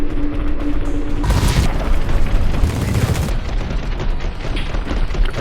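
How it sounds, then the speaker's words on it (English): A grenade blast in the sci-fi squad game The Red Solstice: a loud, broad explosive burst about a second in, rumbling with a second swell of debris noise, over continuous mechanical battle clatter. "Wait till he's clear and then pop a grenade on his ass."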